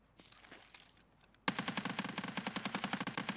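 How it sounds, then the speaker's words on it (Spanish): Rapid automatic gunfire from an Escape from Tarkov raid breaks out after a quiet, rustling stretch, a fast steady burst of sharp, loud shots that runs to the end without pause. "Está disparando desde que empezó la raid, amigo."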